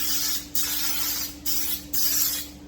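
Nonstick cooking spray hisses into a breakfast skillet in three sustained bursts separated by short pauses, close and fairly loud over a steady low hum.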